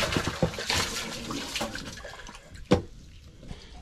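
Water running and splashing as a boat livewell is rinsed of fish scales and debris, a close continuous wash with a sharp splash near the end, fading quieter afterward.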